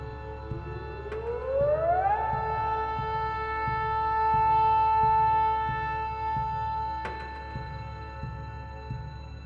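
A siren winds up in pitch and holds a long steady wail, with a faint regular ticking beneath it and a sharp click near the end, heard alone without talk.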